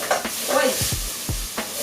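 Jackfruit browns in a pan for vegan alfredo, a close sizzle broken by several quick stirring scrapes and utensil knocks that give a choppy, uneven rhythm.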